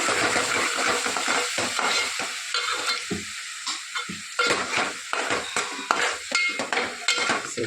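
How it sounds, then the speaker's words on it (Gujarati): A yogurt mixture goes into roasted spice masala in a pan, producing a loud, continuous sizzle with stirring and scraping utensil clatter. No one speaks. "એના અંદર જે આપણે દહીંનું મિશ્રણ બનાવ્યું હતું એ નાખી દઈએ."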